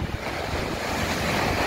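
Storm waves rolling in and washing over the back of a moored boat near high tide, a steady, loud roar of surf mixed with gusting wind buffeting the microphone, continuous throughout with no talking.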